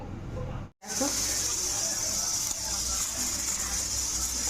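A pressure cooker on a lit gas stove gives a loud, steady, close hiss of escaping steam that breaks off for a moment near the start and then goes on unbroken.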